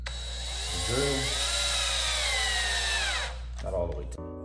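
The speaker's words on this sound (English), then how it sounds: "Drill." A power drill whirs up to speed, holds a steady high whine for a couple of seconds, then winds down, followed by a short second burst, while tightening bolts during car clutch maintenance.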